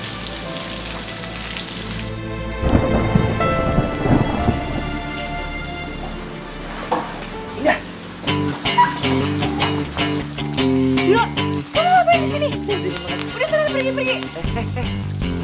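Heavy rain pours steadily while thunder rumbles loudly in a drama scene, with a dense hiss of rain throughout; a few voices and some music-like tones come through later.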